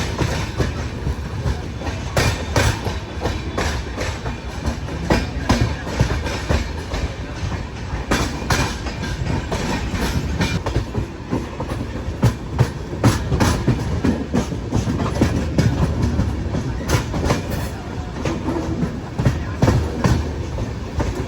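Howrah–Kanyakumari Superfast Express running through Chennai at night, a loud steady rumble of coaches with rhythmic clickety-clack of wheels over rail joints, heard from on board and continuing without pause.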